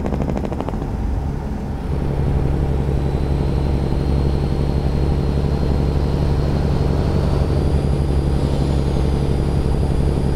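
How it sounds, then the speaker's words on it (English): Truck engine in American Truck Simulator, a loud, steady low droning rumble that holds evenly throughout with no talk over it. "That was a nice sound of that truck."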